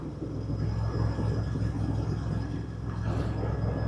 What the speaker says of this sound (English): That exhaust noise still gets me, you know. Sounds fantastic.